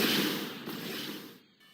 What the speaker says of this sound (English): all of the disused boosters that I have for structural components give a bit of a fireworks show when I get rid of them from the sequence